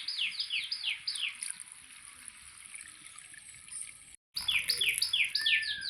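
Birds chirp outdoors in the morning, with repeated quick descending tweets in bursts at the start and end, fairly faint and slightly distant over a soft trickling background.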